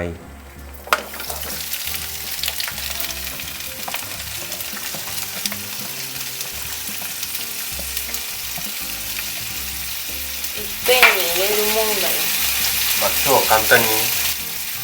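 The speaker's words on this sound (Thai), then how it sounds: "พอน้ำมันร้อนแล้วใส่เครื่องทุกอย่างลงไป" Ingredients for Japanese-style Napolitan tomato spaghetti fry in hot oil, a loud, close, continuous sizzle with scraping and stirring clatter; a voice speaks briefly over the crackle near the end.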